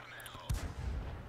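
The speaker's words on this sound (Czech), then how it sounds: "vidíte ta rychlost té střelby" Hellcat tank destroyer firing its gun in World of Tanks, a single sharp low boom that rises out of quieter battle noise, followed by a rumbling tail.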